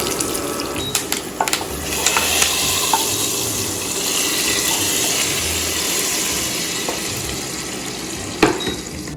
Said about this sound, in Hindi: जैसे ये होगा फ्राई तो उसके बाद हम इसमें करी पत्ता शामिल करेंगे।